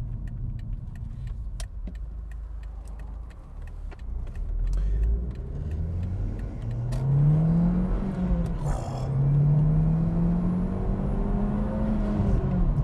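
A Mk1 SEAT Leon Cupra R 210 fitted with a Ram Air induction kit revs up, its engine note climbing into a deep rising growl that swells and falls twice, heard from inside the car with light road noise.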